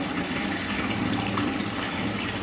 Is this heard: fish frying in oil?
no